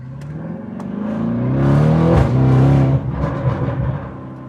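A Lamborghini Urus with a 720 hp Akrapovic exhaust accelerates hard, its engine note rising in a loud, continuous roar that builds for several seconds before easing slightly near the end, with no voices over it.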